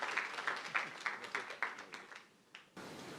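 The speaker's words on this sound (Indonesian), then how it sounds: "Kita tepuk tangan dong penyanyi, pemain musik." A church congregation applauds faintly, a run of soft, regular claps that thin out and stop, with a voice speaking over them.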